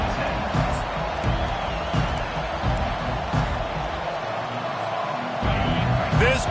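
A football stadium crowd roars a loud welcome to the visiting team, a dense sustained rumble with occasional thuds and cheers beneath a commentator's voice.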